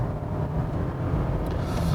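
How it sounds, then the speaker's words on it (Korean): Steady, dense engine and road noise from a 2018 Toyota Camry 2.5 pulling under acceleration, heard from inside the cabin at a constant, moderately loud level with no voices. "잠시 가속 페달을 밟아볼까요?"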